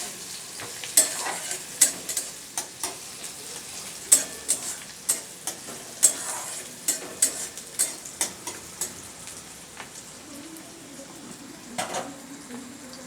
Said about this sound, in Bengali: পেঁয়াজটা হালকা লাল করে একটু ভেজে নিতে হবে